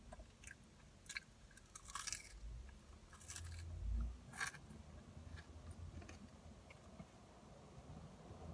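Someone chews a sandwich during a mukbang: soft, close, intermittent crunchy bites and mouth sounds with quiet gaps, no talking.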